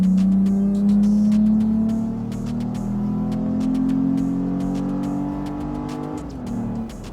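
A Toyota Tacoma pickup with an aftermarket exhaust accelerates hard, its engine droning loud and steady as the pitch climbs through the gears and briefly drops at a shift. No one speaks.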